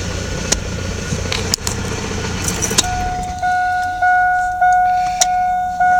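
A Chevrolet S10 pickup engine idles with a steady low rumble, while a sharp electronic beeping and a few clicks and key jingles sound nearby in the cab.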